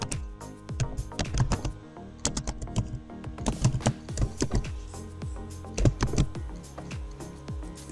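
Quiz questions being typed on a computer keyboard: close, irregular bursts of clicking keystrokes with short pauses between runs, no speech.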